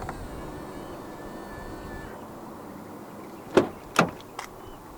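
Three quick mechanical clunks of a 2024 Ford Everest door lock, triggered by the button on a front door handle, sound close together after a few seconds of quiet outdoor hum.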